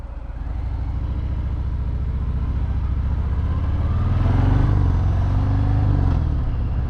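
A 2018 Harley-Davidson Fat Bob fitted with a Screamin' Eagle exhaust rumbles continuously while being ridden, a deep throbbing engine note with wind noise. The pitch climbs and swells midway, then holds steady, and no one speaks.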